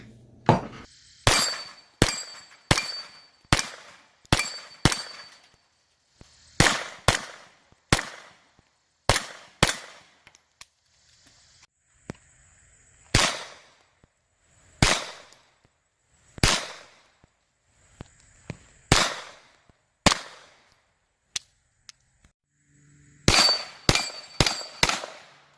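A Kel-Tec Sub 2000 Gen 2 carbine fires at a range, sharp loud cracks coming in quick strings of single shots with short gaps between groups, each report ringing briefly before the next.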